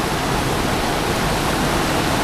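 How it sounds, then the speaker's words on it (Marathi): Swollen monsoon river water rushing beneath a footbridge in Rajapur, Konkan, a loud, steady broadband roar that holds without a break from start to finish. "आणि पाणी वाढलंय सकाळपेक्षा जास्त आहे पाणी बघा"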